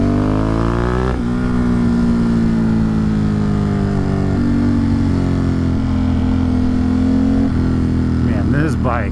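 A motorcycle on a hill climb at the Walton Microstage in the Catskill TT, its engine droning loud and close throughout with shifting revs and pitch.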